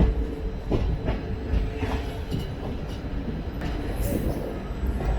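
The 16362 Velankanni–Ernakulam biweekly express runs with a steady loud rumble and repeated wheel clatter over rail joints, nearby and continuous throughout.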